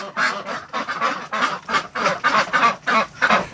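Ducks quack repeatedly in loud, close bursts, several calls overlapping in an irregular but steady rhythm with no talking.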